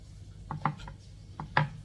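Boiled soft pork intestines are chopped with a knife on a cutting board for larb, giving a few sharp, close knocks in two quick pairs, with no talk.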